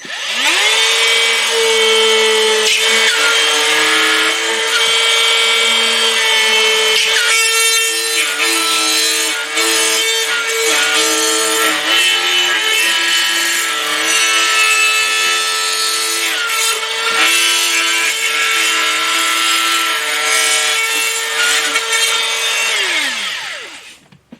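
A saw cuts through a drywall panel in a continuous rasping scrape with a steady tonal hum, running close and loud for about twenty seconds before it stops.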